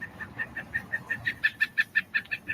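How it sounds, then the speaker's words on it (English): A woodpecker's laughing call played from a recording: a run of about fourteen quick, nasal, evenly spaced notes that grow louder toward the middle and speed up slightly, heard alone with no talk. "I've never heard that goofy woodpecker laugh like that before."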